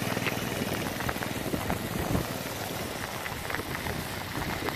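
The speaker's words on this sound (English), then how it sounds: "This weather is crazy, man." Rain pours down steadily during a storm, a dense, even wash of drops and hiss that stays loud and unbroken with no voices.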